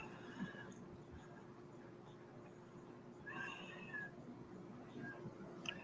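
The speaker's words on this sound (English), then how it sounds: "there's a cat up there" A faint cat meows a few times in the distance over steady background hum; no one speaks.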